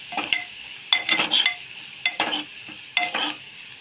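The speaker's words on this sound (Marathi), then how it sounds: "हे सुद्धा छान परतून घ्या" Turmeric and Malvani chili powder sautéing in oil in a pan, heard as short bursts of sizzling and spoon scraping that repeat four or five times, close and with pauses between.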